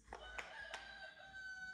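A thin electronic rooster crow plays quietly, a short toy-like cock-a-doodle-doo with a sustained tone, against a soft room background.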